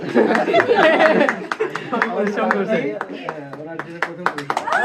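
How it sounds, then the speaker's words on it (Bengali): Scattered clapping at a picnic prize-giving, mixed in with loud chatter and some laughter from the gathered crowd, with sharp claps growing more noticeable toward the end. "জোরে একটা হাততালি হবে"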